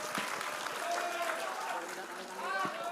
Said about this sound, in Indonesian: Kita tepuk tangan dulu dong untuk Bang Kava